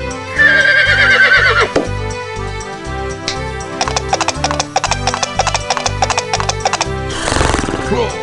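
Horse neigh in the 1996 Danish PC game Ønskefisken: a loud whinny opens, then rhythmic clip-clop hoofbeats trot along over cheerful game music, ending in a burst of noisy sound.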